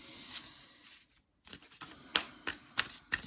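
Tarot cards are shuffled by hand in close, papery bursts of riffling and rubbing, with a brief pause partway through and crisp snaps toward the end.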